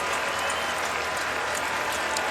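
A crowd claps steadily at a CFL football game between the Edmonton Elks and Ottawa Redblacks, offering sustained, dense applause in support of an injured player.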